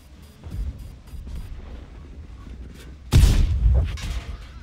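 A tank shell ricochets off armour in World of Tanks, a sudden loud metallic impact with a booming tail near the end, after quieter bursts of gunfire and engine rumble.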